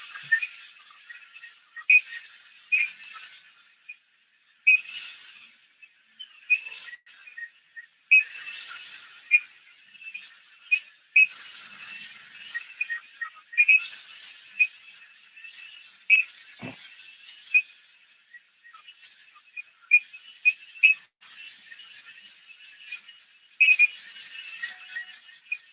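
Feeble, high-pitched calls of a Cheshire bush frog repeat steadily, short chirping clicks in an irregular stream with no other sounds.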